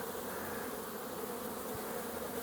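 Honeybees swarm around an opened hive frame from a queen-rearing setup, a dense continuous buzzing drone close up and steady throughout, with no talk.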